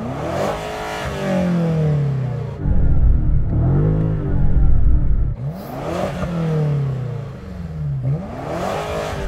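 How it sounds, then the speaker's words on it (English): Engine of a previous-generation BMW M5 revving repeatedly against its soft limiter: loud, close surges rise and fall in pitch, with roaring climbs, brief holds at the limiter and dips between pulls, no talk over them. "Rev up your car."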